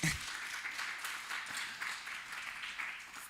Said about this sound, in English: clap for Nate